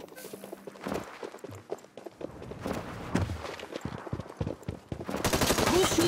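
Gunfire in an online shooter game, likely a battle-royale match, comes as scattered sharp shots and short bursts mixed with footsteps and other game sounds, growing louder and denser toward the end.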